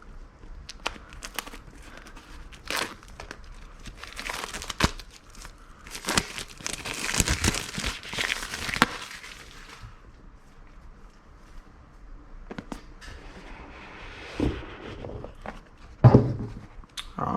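Someone unboxes an Auxito LED bulb package, and the plastic and cardboard packaging crinkles and rustles in repeated bursts, some of them loud and close, with short quiet gaps between.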